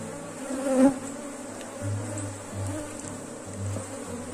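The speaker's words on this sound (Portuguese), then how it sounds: "Olha só, gente, que enxame populoso." A populous honeybee swarm inside a beehive makes a close, steady buzzing drone with a few louder passes of single bees nearby and no speech over it.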